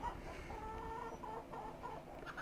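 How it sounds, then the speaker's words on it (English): Farmyard chickens cluck in a Trainz railway simulator game, with a steady run of short repeated clucks and murmurs at moderate distance, alone and without talking. "Here is chickens."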